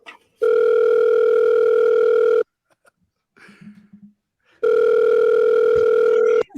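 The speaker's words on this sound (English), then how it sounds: "So much ringing." A telephone rings twice in long, steady electronic tones, with a quiet gap of small shuffling sounds between the rings.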